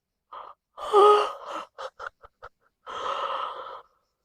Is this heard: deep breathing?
yes